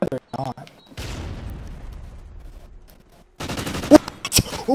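Gunfire in a first-person shooter game: a rapid burst of sharp shots that rings out and decays, then a cluster of loud cracks near the end, with a voice speaking in between.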